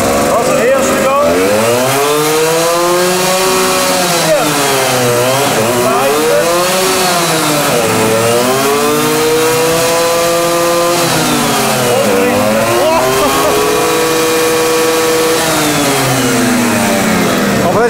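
A historic moped engine revs at full throttle on a test dyno, a loud, buzzing two-stroke whine that rises and falls in waves throughout, with people talking over it.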